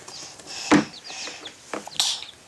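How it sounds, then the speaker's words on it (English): A small chick held in hand gives high, thin peeps, a few short calls spaced apart, close and clear against a quiet background. "You like holding chicks?"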